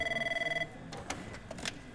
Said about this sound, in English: If you've ever sit and listen to your phone ring continuously for 24 hours without it stopping.